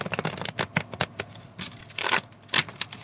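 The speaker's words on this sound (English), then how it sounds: "And it's got a broken card. That's what's difficult to shuffle." A tarot card deck with one broken card is shuffled by hand, producing a run of quick, uneven riffling bursts and soft card slaps, close and crisp, with no talking.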